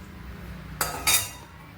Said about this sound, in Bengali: এখন আমি কড়াই বসিয়ে দিচ্ছি গ্যাসে